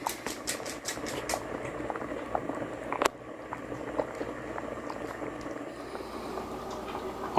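Taco soup, also called tortilla soup, simmers in a pot, giving soft irregular bubbling pops and crackles close by, quiet and steady with no voices.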